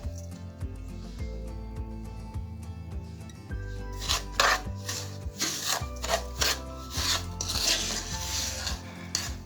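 Semolina and pine nuts being stirred and roasted together in a pan, giving repeated dry rasping scrapes that grow denser and louder partway through, over a faint steady tonal background.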